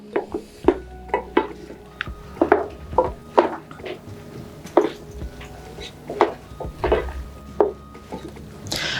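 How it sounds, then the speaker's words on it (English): A spoon stirs very spicy food in a pot, producing repeated close knocks and scrapes against the pot in an uneven rhythm, with no voices. "I'm stirring it together."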